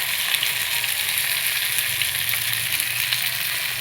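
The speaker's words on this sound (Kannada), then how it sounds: "ಹುರಿಗಡಲೆ ಎಲ್ಲ ಮಿಕ್ಸ್ ಮಾಡ್ಕೊಂಡಿದ್ದೀನಿ, ಅದು ಹಾಕಿ ಫ್ರೈ ಮಾಡ್ಕೊತೀನಿ" Roasted gram mixed with spices frying in a hot pan, a close, continuous crackling sizzle with no pauses and no voices.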